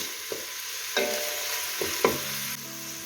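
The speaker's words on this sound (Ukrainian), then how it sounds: "Трішки цибулі залишаємо, підсмажуємо до прозорості." Onion fries in a pan for borscht, a soft steady sizzle broken by several scraping stirs and taps of a utensil, close with no talking.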